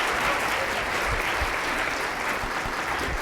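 Steady, dense applause from a conference audience at an opening plenary session of the NHMA 2019 conference, sustained at an even level with no voices over it.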